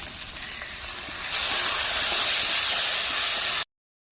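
Loud hissing sizzle surges as a little water hits spice paste frying in a hot pan, a continuous steamy roar that cuts off abruptly.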